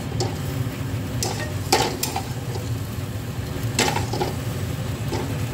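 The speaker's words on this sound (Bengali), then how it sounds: "এই পেঁয়াজটা এই চিকেনের মধ্যে এবার দিয়ে দেবো" Onion goes into chicken frying in oil: a steady sizzle runs under clattering stirs, with a spoon scraping and knocking against the pot in a few sharp bursts, close by and without talk.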